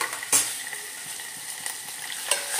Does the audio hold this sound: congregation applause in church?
no